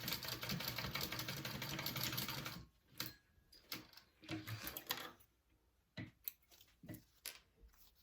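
A sewing machine stitching a quarter-inch seam on a crossbody bag, running in a steady dense whir for about two and a half seconds, then stopping and starting in short bursts with handling noises between.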